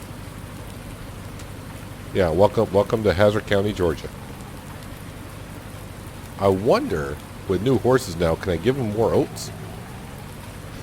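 Steady rainfall in Farm Sim 19, a constant hiss filling the background for the whole stretch, with someone talking over it in two bursts.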